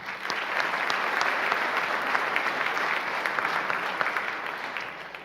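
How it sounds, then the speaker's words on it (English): A room full of people claps for Mark and the chamber of commerce at the opening of an Anne Arundel County Executive debate, dense, even applause sustained loud and close for several seconds. "Just a round of applause for Mark and the chamber."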